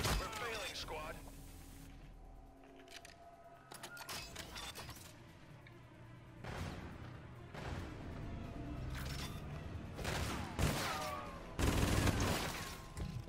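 Rapid bursts of video game gunfire, loud and repeated, with sharp impact cracks, while a person talks over the shooting about slide-and-shoot no-scope sniping.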